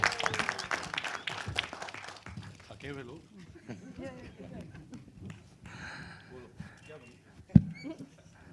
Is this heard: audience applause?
yes